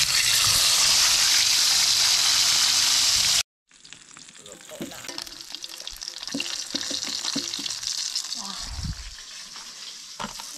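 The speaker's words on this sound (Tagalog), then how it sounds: "Ilulunod na natin mga ka-channel dahil mainit na ang ating kawali" Fish frying in hot oil in a kawali: a loud burst of steady hiss, a brief cut to silence, then a crackling sizzle that swells and stays dense with occasional spatters, close by.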